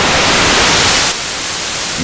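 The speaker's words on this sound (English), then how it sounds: "dense, high frequency white noise, right?" Dense, high-pitched white noise from a Lizard System synth module hisses loudly and evenly, then drops slightly in level and thins out about halfway through while staying a continuous static wash.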